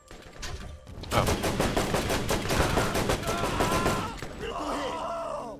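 Rapid gunfire in the video game Borderlands, a dense burst of shots lasting a few seconds, with players groaning and yelling over it.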